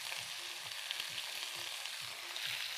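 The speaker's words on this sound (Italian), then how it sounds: "Facciamo rosolare bene, quindi la carne deve essere bella rosolata" Meat and artichokes browning in hot oil in a pan, with a steady close sizzle and crackle throughout and faint rhythmic stirring thumps below, no talking.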